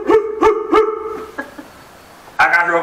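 A female dog barks in a run of three or four loud, close barks, goes quiet, then barks again loudly at the end.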